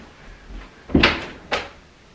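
A door in a home interior is opened, giving a soft knock followed by a wooden thud and a second brief bump, close and alone.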